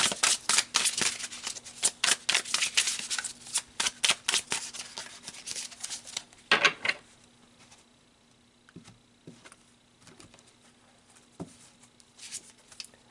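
Tarot cards being shuffled by hand, a fast run of crisp riffling flutters for several seconds, then quieter scattered taps and slides of cards being laid out, with no talking.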